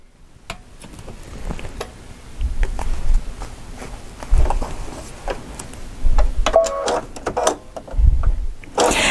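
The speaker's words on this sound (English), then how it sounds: "I like to sew towards the folded edge so everything comes out really nice." Sewing machine stitching vinyl toward a folded edge, rapid mechanical ticking in several short bursts with pauses between runs, close and clear with no talk.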